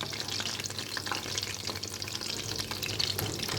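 Potato pillows made with rice flour fry in oil over slow-medium heat, giving a dense, even, close crackling sizzle with no break.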